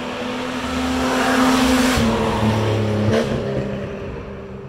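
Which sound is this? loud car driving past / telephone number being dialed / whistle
loud car driving past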